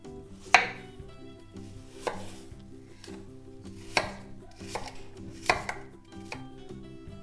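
A knife chops apple pieces into medium cubes on a cutting board for a skillet apple pie, giving sharp, close knocks at an irregular pace about every second or two, alone without talk.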